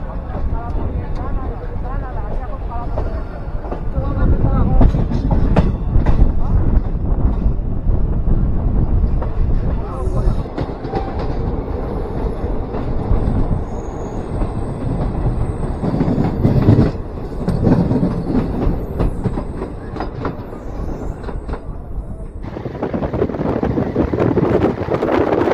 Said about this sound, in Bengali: একটা মালগাড়ি।